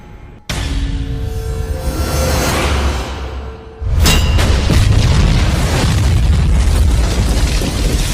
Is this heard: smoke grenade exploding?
yes